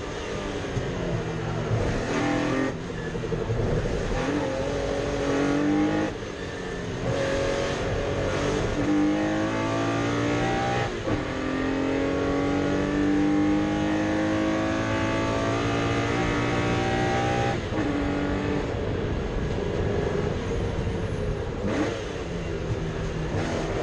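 Racing cars at Oulton Park, a TVR among them, rev and accelerate as a race gets underway, engine notes rising and falling in overlapping sweeps, fairly distant and continuous with a few sharp gear-change breaks.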